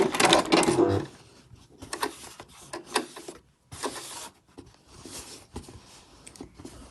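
A sewing machine stitches backward over a dust bag seam in short bursts, a loud rapid clatter at first, then several brief, quieter runs of stitching separated by pauses.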